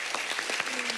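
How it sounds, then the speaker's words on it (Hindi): A studio audience on a Kapil Sharma comedy TV show gives a brief burst of close, crisp clapping for arriving guests. "तो इन दोनों के लिए जोरदार तालियां।"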